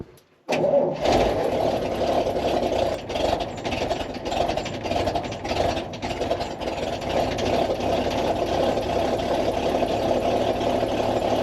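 An old truck engine fires up on choke after a brief crank, then settles into a loud, steady idle that runs on for about ten seconds, with no talking.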